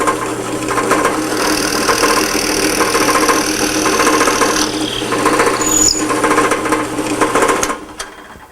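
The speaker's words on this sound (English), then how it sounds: "I'm going to drill through and show you what happens." Twist drill boring through the centre hole of an aircraft platen, a loud steady whining drone that runs for several seconds, changes pitch briefly near the end, then cuts off abruptly.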